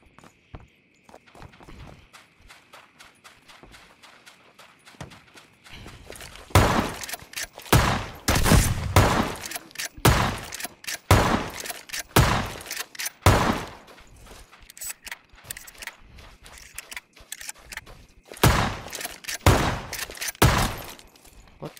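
Rapid gunfire bursts from a minigun turret in a battle royale video game, loud, dense volleys with short pauses between them.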